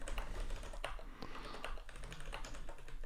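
Rapid, uneven clicking of computer keyboard keys while someone writes a software test, close and steady with a soft low hum underneath.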